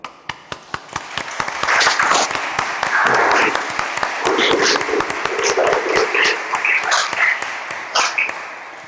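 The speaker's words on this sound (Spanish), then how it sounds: "Aplaudamos este logro." Applause at a lawyers' swearing-in ceremony before the Supreme Court: a few sharp separate claps, then a dense, steady round of clapping from the assembled audience that lasts several seconds, with voices murmuring underneath.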